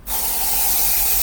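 A beer is opened with a sharp burst of spray: a sudden, close, steady hiss that begins abruptly and holds strong for about a second.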